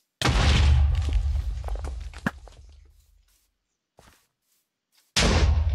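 A grenade explodes in Minecraft's Superheroes Unlimited mod: a loud boom with a long decaying rumble and scattered crackles, fading to silence before a second loud blast hits at the end.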